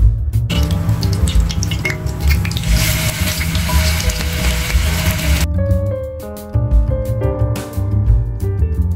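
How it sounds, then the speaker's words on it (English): Seekh kebabs shallow frying in hot oil in a pan, a dense continuous sizzle and crackle that stays loud and steady, briefly easing before resuming. "heat some oil in a pan and shallow fry the Seekh Kebabs until it gets a nice golden brown color on both sides"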